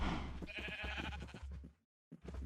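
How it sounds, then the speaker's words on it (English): A Minecraft sheep in a hardcore survival world gives a loud, wavering bleat up close, followed by a brief pause and the start of another bleat. "Let's see what the sheep are up to."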